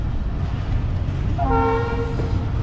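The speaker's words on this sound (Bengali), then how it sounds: "তো ফাইনালি আমাদের ট্রেন ছেড়ে দিছে।" A commuter train departing a station rumbles steadily, and partway through a horn sounds a short, clear blast over the low running noise.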